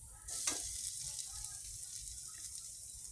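Boiled potato dropped into a spice mix frying in a pan for aloo chop, a steady soft sizzle with a brief louder splash of frying near the start, close and continuous.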